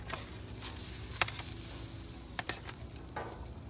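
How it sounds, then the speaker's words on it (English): Quiet, steady sizzling of vegetables on a hot Blackstone griddle, with occasional crackles and the scrape of stirring, close by and without voices. "You can already hear that sizzle."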